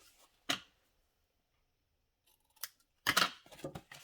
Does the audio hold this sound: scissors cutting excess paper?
yes